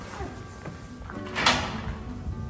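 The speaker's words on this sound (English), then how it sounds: "Trying to open the door?" A toddler tugs at a door in a house, producing a sliding rattle and a sharper thud of handle and frame midway, faint and close amid a low room hum and a little speech.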